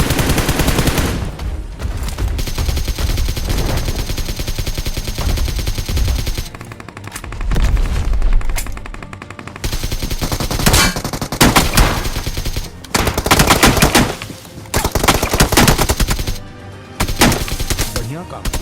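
Rapid bursts of M416 Glacier gunfire in a BGMI match, loud and dense, with short gaps between bursts and other game effects mixed in.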